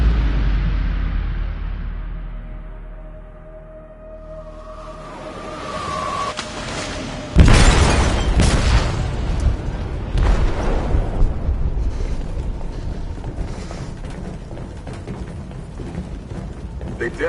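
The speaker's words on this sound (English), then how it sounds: "They detonated an explosive in the hold. The ship is sinking, sir." In the video game Detroit: Become Human, an explosive goes off in a ship's hold. A single heavy blast hits after a quieter stretch, then a long rolling rumble and debris noise roar on loudly to the end.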